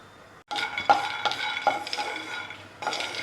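Peanuts dry-roasting in a pan without oil, stirred in repeated scraping and rattling strokes, close and fairly loud after a brief quiet start, with faint clinks of a spoon against the pan.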